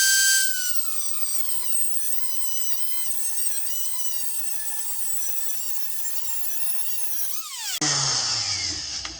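A power tool cuts through metal for a Sur Ron Light Bee flag mount, a steady high-pitched whine that holds for several seconds, wavers slightly, then drops abruptly into a different, rougher tone near the end.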